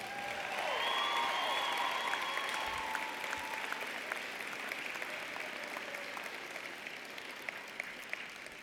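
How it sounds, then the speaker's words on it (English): Sustained applause from a crowd at a university social work commencement ceremony, a dense wash of clapping that swells early then settles into a steady, fairly distant roar, with a few whistles near the start. "give a round of applause for all the people who helped you get to this point"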